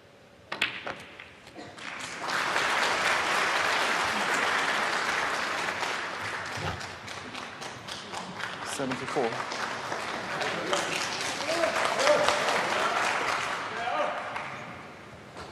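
Snooker audience at the International Championship breaks into sustained applause and cheers, swelling after a few soft taps and holding loud clapping for over ten seconds before easing off.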